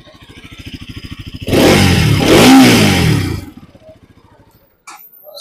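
A Bajaj Pulsar NS200 motorcycle idles with a rapid, steady thump, then revs hard into a loud, sustained roar for about two seconds before settling back to idle, close up and with no talking.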